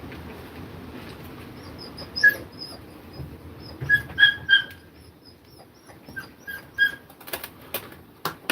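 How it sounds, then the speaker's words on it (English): A dog whimpers in short, high, nasal cries, several brief whines spaced irregularly over a low steady background hum, moderately close, with no talk. "You can also hear the dog."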